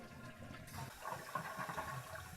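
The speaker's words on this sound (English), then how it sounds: "we'll take a peek as we try to flush the toilet" A household toilet flushes during a shut-off valve replacement, the rush of water starting low and swelling into a steady, close gurgling wash as the bowl drains and refills.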